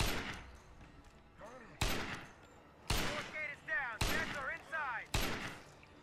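About five loud, sharp gunshots from a gun in State of Decay: Lifeline, spaced roughly a second apart, each with a quick echoing decay, while muffled voices chatter faintly between the shots.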